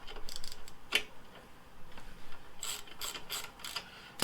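Hand ratchet fitted with a 10mm star socket, worked during a speedometer install on a 2009 Harley-Davidson Sportster 1200 Low: a few faint, quick clicking bursts, with a brief pause between them.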